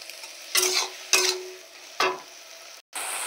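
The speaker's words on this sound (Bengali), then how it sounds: "দিয়ে আমি এই সব কিছু একসাথে সুন্দর করে একটু কষিয়ে নেব" Tomato chutney with salt, turmeric and bay leaf sautéed in a pan, three distinct scraping stirs over a steady close sizzle, with a brief dropout near the end.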